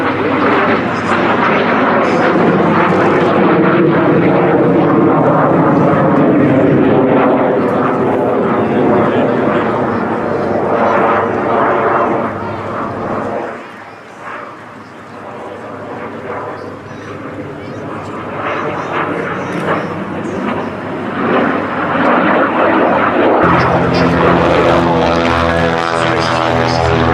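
De Havilland Vampire jets break formation at the RAF100 Battle of Britain Airshow at Duxford, their engines a loud, sustained roar that dips briefly midway and then swells again, with voices speaking over it.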